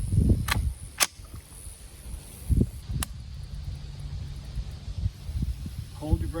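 Ruger 10/22 rifle being sighted in, several sharp, short cracks at close range spaced seconds apart, with quiet rustling and faint handling noise between shots.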